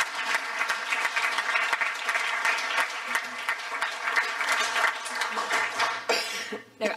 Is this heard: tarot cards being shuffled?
no